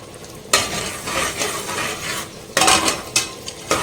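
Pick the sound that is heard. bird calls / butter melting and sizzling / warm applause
butter melting and sizzling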